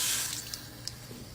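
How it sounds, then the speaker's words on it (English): A water tap turned on at a sink gushes with a hissing, splashy stream, starting loudest then settling into steady running water with a couple of small drips, no voices. "Want water turned on?"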